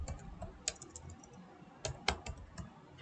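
Typing on a computer keyboard while entering a code commit message: scattered, faint key clicks at an irregular pace, with a few sharper taps over a low background hiss.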